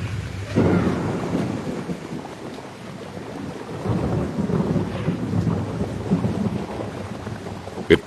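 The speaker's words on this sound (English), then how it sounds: "Rain." Heavy rain pours steadily with deep rumbling thunder rolling throughout, a continuous dense wash of sound with a sharp crack near the end.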